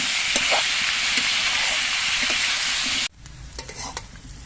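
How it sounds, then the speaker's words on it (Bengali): Young jackfruit fries with salt in an oiled pan, a loud, dense sizzle with stirring bursts for about three seconds before cutting abruptly to a much quieter background with a few faint clinks. "এঁচড়টা নুন দিয়ে ভাজতে একটু সময় লাগবে একটু বেশি সময় ধরে এঁচড়টাকে ভেজে নিতে হবে"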